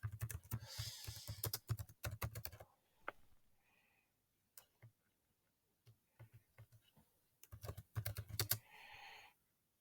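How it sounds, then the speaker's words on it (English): Computer keyboard typing heard close up: a rapid run of key clicks, a few sparse taps after a pause, then another quick burst, crisp and near in a quiet room with no voice. "So I'm going to say I've never visited before."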